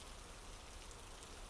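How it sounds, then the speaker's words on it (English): Rain falls steadily outside at night, a soft continuous hiss with no breaks, faint and even throughout. "Tonight, it's raining outside."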